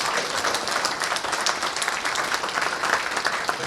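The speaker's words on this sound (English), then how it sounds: "let's give a round of applause for the hard-working waiters and waitresses" Guests at a climate conference welcome dinner at Thorny Lea applaud the waiting staff, a thick, even roar of many hands clapping without pause.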